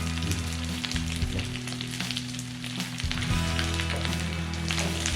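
Steady loud sizzling of goat lungs frying in a hot pan, a dense crackling hiss that continues throughout with no voices.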